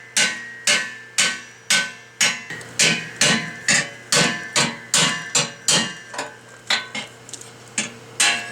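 A steel cap is hammered into snow plow tubing with a steady series of about eighteen sharp metallic blows, loud and close, each ringing briefly before the next, with no talking.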